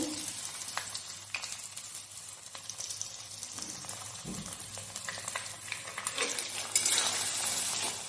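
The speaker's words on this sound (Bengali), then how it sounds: "সেটা একটু ভাজতে দেবো। পেঁয়াজটা ভাজতে" Two large chopped onions sizzle softly in a pan over medium heat, a quiet continuous frying hiss with occasional utensil taps and stirring scrapes.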